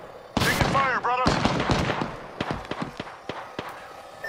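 Bursts of close gunfire in Apex Legends, a loud opening volley followed by scattered sharp shots and rapid pops, with a brief voice-like chatter mixed in early.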